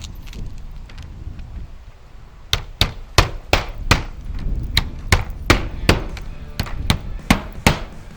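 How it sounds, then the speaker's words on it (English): Hammer driving nails through the metal flange of a roof-mounted intake vent into shingles, about a dozen sharp, evenly spaced strikes at close range, starting after a couple of seconds of quiet. "we'll go ahead and put some nails in it now."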